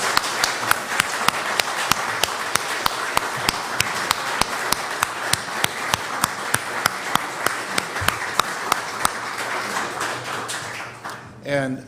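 An audience at a lecture event on the Second Amendment applauds the speakers in a steady, sustained round of clapping that lasts nearly twelve seconds, then fades out at the end.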